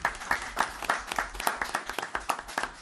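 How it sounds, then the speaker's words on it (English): A small audience at a senior advisory committee meeting claps for staff, with distinct individual hand claps in a quick uneven rhythm, fairly close and moderately loud. "please give them a big round of applause"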